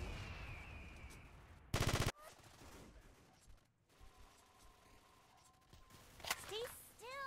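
Rapid gunfire in a video game, one short dense burst of automatic shots standing out, with scattered quieter game sounds and voices talking around it.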